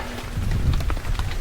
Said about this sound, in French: Et ici c'est la pluie.